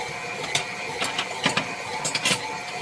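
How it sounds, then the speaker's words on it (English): Close electric kitchen mixer whirring steadily in a home kitchen during cheesecake preparation, with a continuous motor drone and irregular clattering ticks as the beaters knock against the bowl. "That's a mixer."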